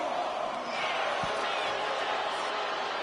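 A loud, dense crowd roars and cheers steadily through a wrestling video game arena, a continuous wash of noise with a brief low thump partway through.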